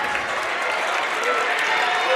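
A basketball crowd at a boys' regional game cheers and applauds for Pinckneyville, a dense sustained roar that holds steady and builds slightly, with a commentator talking over it.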